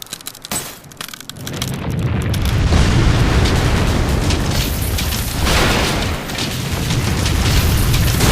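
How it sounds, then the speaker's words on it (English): A giant missile explodes in the video game Asura's Wrath, a loud sustained roaring blast with rumbling debris that swells after a brief buildup and holds at full force to the end, with no voices. "A fucking giant Asura missile to the fucking face."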